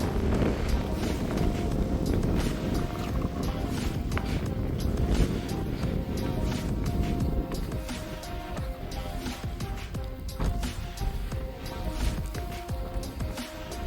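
Steady wind at Thangal Para in Vagamon roaring past the microphone, a loud continuous rush with low rumble throughout, no voices.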